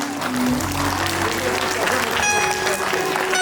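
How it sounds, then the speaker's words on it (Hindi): Steady applause from an audience at a Basant Panchami festival program fills the space, a dense wash of clapping mixed with crowd murmur and a faint tone underneath. "जोरदार तालियों के साथ इस कार्यक्रम को शुरू करते हैं।"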